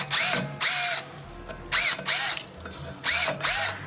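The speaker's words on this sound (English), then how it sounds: "Drilling some of these out, safety first." Power drill bursts while drilling out parts during a BMW M2 service in a specialist workshop: four or five close, loud whirring runs of about half a second to a second each, with short pauses between them.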